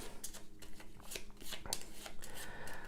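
Board game symptom cards being shuffled by hand, a quick series of crisp riffling snaps and soft paper slides close to the listener with no one talking.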